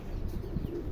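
Pakistani Teddy pigeons at a breeder's farm give a brief, low, soft coo, fairly quiet and close, with a faint murmur of other birds behind it.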